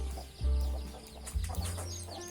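A farmyard mother hen clucking near her chicks, a few close, loud throaty clucks with faint chick peeps scattered around them.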